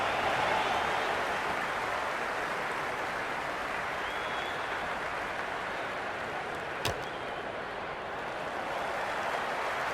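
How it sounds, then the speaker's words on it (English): Steady roar of a stadium crowd in a cricket video game, a broad continuous wash of cheering that holds level and loud throughout, with one brief sharp knock partway through. "There's an almost tangible fervour throughout the crowd at the moment."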